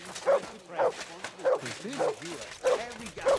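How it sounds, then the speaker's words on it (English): A dog in the video game Kingdom Come: Deliverance II, giving a quick series of about six short barks and yips, close and fairly loud. "Good dog, Mutz. Show me"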